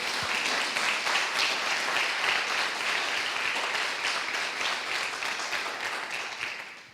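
A church congregation applauds in praise during a sermon, loud continuous clapping from many hands filling the whole stretch and easing slightly at the very end, with no voice over it.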